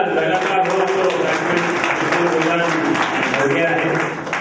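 Dense clapping fills the room at a website launch event, a loud, continuous crackle of many hands with murmuring voices underneath.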